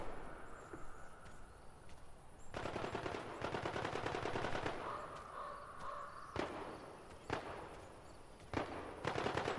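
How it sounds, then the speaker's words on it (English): Video game gunfire in a spooky exploration level: rapid bursts of machine-gun fire and single shots, loud and near, coming in several clusters with short pauses between them. "They're shooting someone else now."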